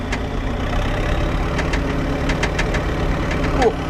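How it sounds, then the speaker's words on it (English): A Marshall 904XL tractor engine idles with a steady low rumble and a faint high whistle from the exhaust stack, close by and even, with a few light knocks over the run. "For me, it's that whistle that comes out of the exhaust stack."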